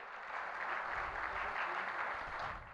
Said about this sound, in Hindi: एक बार जोरदार तालियां इस मंच के लिए